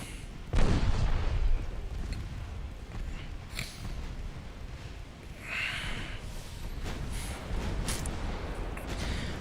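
Warship gunfire in Ultimate Admiral Dreadnoughts sounds as one heavy, booming shot near the start, followed by lighter scattered blasts and splashes against a constant rumbling battle background.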